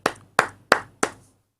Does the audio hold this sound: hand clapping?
yes